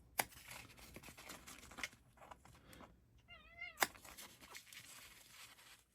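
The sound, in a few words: cat meowing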